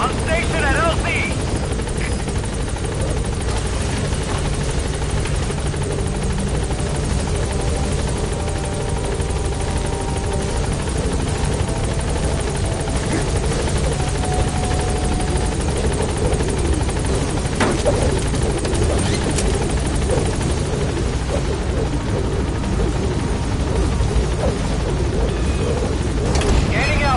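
B-Quad support helicopter in Metal Gear Solid V arriving at a landing zone, a loud continuous rotor roar and turbine drone filling the whole stretch, with radio voice chatter over it.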